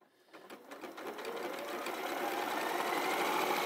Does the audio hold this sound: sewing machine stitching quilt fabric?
yes